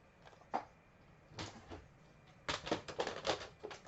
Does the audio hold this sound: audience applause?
no